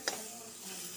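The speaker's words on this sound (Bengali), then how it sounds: "আরও টমেটোগুলোকে ভেজে নেবো যাতে টমেটোটা গলে যায়।" Tomatoes frying in a pan over low heat, a faint continuous sizzle with a single light stirring tap near the start.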